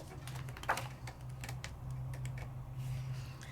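A Sizzix die-cutting machine cranks snowflake dies through with a steady low mechanical rumble and a run of soft clicks and ticks, close and fairly quiet, with no voices.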